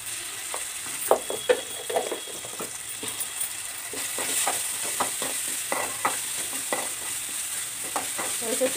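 Ginger garlic paste sizzles in a pan with tomatoes, a steady fry under repeated scraping and clinking strokes of a spoon stirring it.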